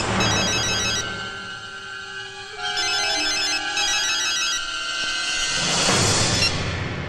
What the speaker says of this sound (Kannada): ನೋಡಿ, ಮತ್ತೆ ಫೋನ್ ಮಾಡಿದ್ದಾನೆ.